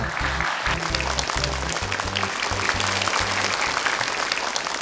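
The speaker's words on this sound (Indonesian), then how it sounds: "Tepuk tangan dong untuk Aida." Lively applause from a television talent show audience fills the clip, with steady clapping over a background tune playing in low tones.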